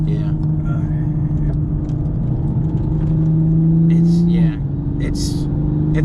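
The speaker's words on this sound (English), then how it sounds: "Yeah, anytime you launch it really hard, the back end wiggles, but I mean it straightens itself right out." A JB4-tuned Toyota GR Supra with an intake and catted downpipe holds a loud, steady engine drone under hard launch, then the pitch drops briefly near the end as it shifts, with voices talking over it.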